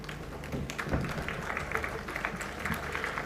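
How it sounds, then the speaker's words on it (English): An audience at a devolution conference held at Makueni Boys High School stands and applauds Lady Justice Martha Koome, giving a steady wash of many hands clapping, fairly faint and continuous throughout. "I want you to stand and clap for her"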